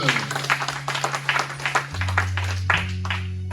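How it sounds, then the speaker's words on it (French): Church congregation applauding and clapping in a steady, lively rhythm, with a sustained organ-like keyboard tone underneath and voices mixed into the crowd noise. "Allez, acclamez l'Éternel."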